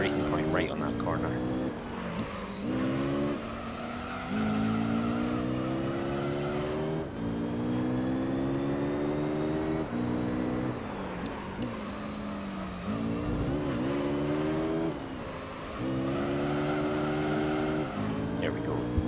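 A Mazda RX-7 racing in Gran Turismo 3, its rotary engine whining and shifting pitch through gears, with tire squeal while it slides through corners, continuous and loud, while someone talks over it.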